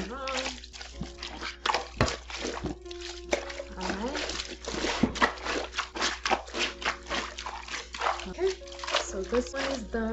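Heavy, thick towel hand-washed in a tub, with irregular splashes, swishes and drips of water close by, often under a person talking.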